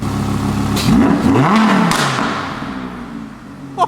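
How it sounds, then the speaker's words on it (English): An Audi R8 V10 Plus engine revs sharply a couple of times, rising and falling in pitch, then settles back toward idle, loud and close. "get in there and rev a little bit"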